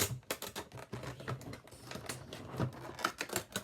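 Plastic and cardboard packaging of a Harry Potter figure being torn open, a dense run of crisp crackles and snaps that stays close and fairly loud throughout, with no talking.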